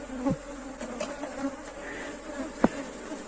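Honeybees buzzing around a hive box where they are drawing out wax on frames, a steady close hum with individual bees droning past and a sharp knock near the end.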